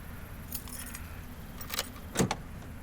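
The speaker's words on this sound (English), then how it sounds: "let's fish out the keys up here" Keys jangle in a horror video game as they are fished out from inside a car, small faint metallic rattles in short bursts over a low steady hum.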